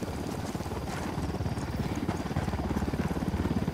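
A helicopter draws nearer in the Ghost Recon Wildlands video game, its steady rhythmic rotor chop growing louder and more pulsing over a few seconds, with no voices.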